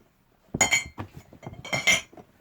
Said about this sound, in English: you can hear lots of mugs clinking away